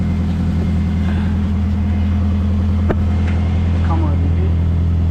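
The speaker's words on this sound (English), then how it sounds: "Okay, so I've got the car running at the moment." Toyota Yaris 1.8 SR idling after an exhaust repair: a steady, loud low engine hum and exhaust drone continuing evenly throughout, with a faint click partway through and no obvious rattles.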